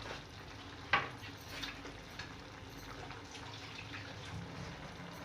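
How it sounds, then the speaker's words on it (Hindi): Leftover chickpea boiling water is poured into a pot of egg and chickpea curry, giving a brief splash and clink near the start, then a soft, faint trickle and bubbling in a quiet kitchen. "और ये छोलों का वो पानी जो उबालते हुए हमारा बचा था,"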